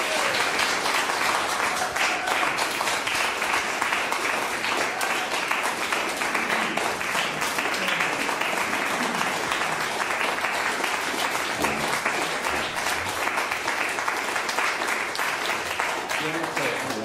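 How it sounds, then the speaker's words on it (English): Audience applause welcomes a trio to a live concert at St Mary's Perivale, a dense, steady wash of clapping that holds at an even level for about seventeen seconds without pause. "A big round of applause,"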